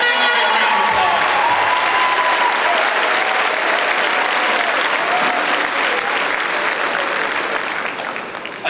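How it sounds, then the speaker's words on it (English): A high school graduation crowd gives teachers and coaches sustained, loud applause, a dense steady clapping that carries on alone for several seconds before beginning to fade at the end. "Let's give them a big round of applause."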